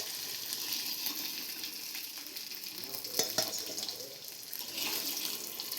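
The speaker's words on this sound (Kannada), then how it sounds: "ಹೀಗೆ ಚೆನ್ನಾಗಿ ಫ್ರೈ ಆಗಿದೆ" Fish frying in hot oil at home, a steady soft sizzle running the whole time with a brief louder crackle and a few light clinks partway through, no voices.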